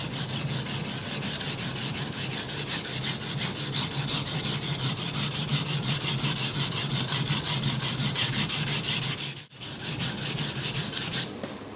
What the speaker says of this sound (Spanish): darle un lijado, aunque sea suave al terminar